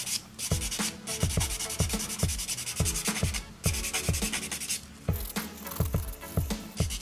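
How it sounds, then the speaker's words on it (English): A handheld nail buffer scrubs the surface of a fingernail before gel polish, making a soft, quiet, rhythmic rasping with quick back-and-forth strokes, steady and close, with no voices. "So I'm gonna go ahead and buff the surface of the nail."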